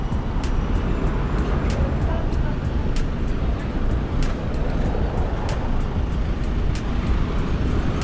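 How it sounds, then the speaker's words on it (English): Busy traffic at a bus station in St. Maarten, a dense continuous roar of passing vehicles with faint repeated ticking clicks, under intermittent talk. "I think this is the bus"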